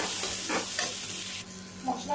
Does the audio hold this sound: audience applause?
no